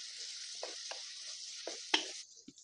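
Tamarind pulp with a spoonful of mustard powder fries in a pan for a cabbage pulihora, giving a steady soft sizzle with a few brief stirring scrapes and taps, no voices.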